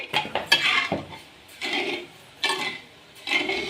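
Sugar syrup for sweet crispy shakarpara is stirred steadily in a pan, producing rhythmic scraping strokes of utensil against metal, four distinct sweeps with short pauses between, close and clear.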